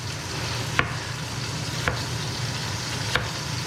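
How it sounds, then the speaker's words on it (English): Pot roast meat sizzling in a hot pan, steady close frying hiss with three brief clicks or taps spaced across a few seconds. "Love the sound of it sizzling."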